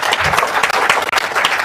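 Brief burst of loud audience applause at a business coaching talk, dense rapid clapping filling the room with slight dips in intensity.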